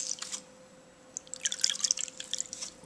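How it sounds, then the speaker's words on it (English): Water drips and trickles from a squeezed makeup sponge in a rapid scatter of small droplets, close by, after a brief pause, with a faint steady hum behind. "put in the water a little bit more and just squeeze all the excess out again"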